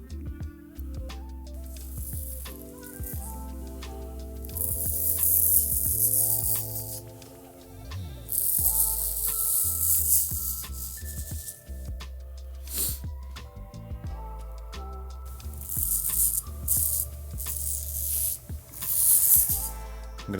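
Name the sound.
razor shaving a head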